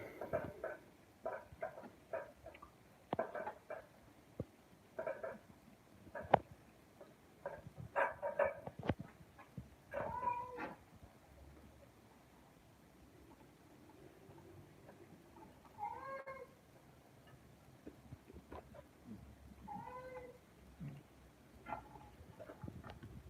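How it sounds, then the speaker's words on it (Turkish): Several drawn-out meows from a cat rise and fall over a quiet background at night, echoing, mixed with scattered knocks and thumps at irregular intervals. "Kedi kedi var 5. katta."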